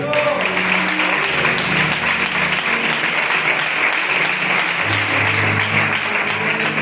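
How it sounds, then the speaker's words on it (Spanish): A church congregation claps loudly and continuously for God during a sermon, a thick, sustained wall of applause with faint tonal music and voices underneath. "Un aplauso para Dios, por favor."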